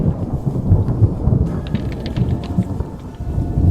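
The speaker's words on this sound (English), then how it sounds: "It's still stormy weather." Stormy weather in The Frostrune game: rumbling thunder rolls continuously beneath steady rain, with scattered brighter drops and splashes joining partway through, loud and close, no voices.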